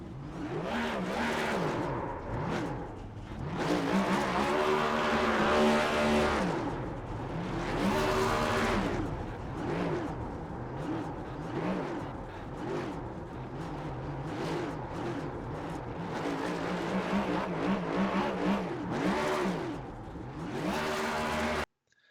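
Loud, sustained engine revving and roaring from NASCAR Cup cars doing burnouts in the iRacing sim at Gateway, with rising and falling pitch sweeps and tire squeal filling the whole stretch without pause.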